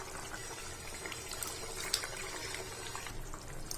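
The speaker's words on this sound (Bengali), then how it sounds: "এইবারে ভেজে রাখা পনিরগুলো দিয়ে একটু ফুটিয়ে" Potato and paneer curry simmering in a pan on a home stove, a steady soft bubbling with a faint watery hiss throughout, close and quiet, no voices.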